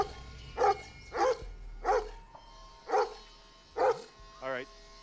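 A dog barks in a steady series of six loud, evenly spaced woofs close by, ending in a short whine.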